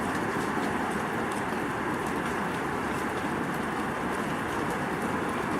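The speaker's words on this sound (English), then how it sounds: "it sounds like there's like a hailstorm like just hitting one spot over there." Storm rain with distant hail pounding one spot, a dense steady hiss of falling drops and pattering at even loudness throughout, with no voices.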